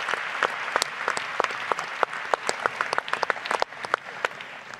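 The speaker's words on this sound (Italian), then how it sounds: "Fate un applauso a Campi che è un uomo timido." Audience clapping at a political party congress of Alternativa Popolare, with distinct individual hand claps at a quick, uneven rhythm over a steady wash of applause, moderately loud, continuing for several seconds.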